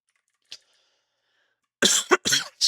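A person with a lingering cold from Christmas coughs: one faint, short cough, a pause of silence, then a louder cluster of three or four quick, harsh coughs close to the microphone.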